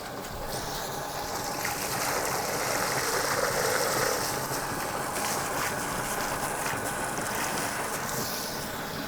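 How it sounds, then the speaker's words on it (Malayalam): An electric motor pumps water up from a well, making a steady, loud, broad rushing drone that holds evenly throughout with no speech. "കിണറ്റിലെ വെള്ളം ഇപ്പോൾ നമുക്ക് മോട്ടർ അടിച്ചെടുത്ത് നോക്കാം."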